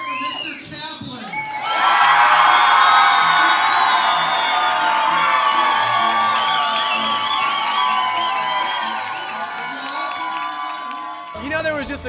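A crowd cheers and whoops for a Charlie Chaplin costume at a costume contest, rising abruptly into loud sustained shouting and cheering that slowly tapers over about ten seconds, with voices calling out.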